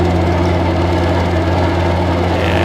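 A light aircraft engine runs steadily just after start-up, loud and close, holding an even droning hum with a firm low tone and no speech over it.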